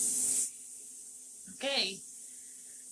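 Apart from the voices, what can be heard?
steam hissing out of a pressure canner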